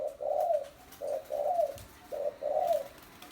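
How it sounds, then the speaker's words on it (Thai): A spotted dove coos nearby in a clear, repeated pattern of soft, rounded phrases separated by short pauses. "นี่นะครับนกคู่เขาครับ"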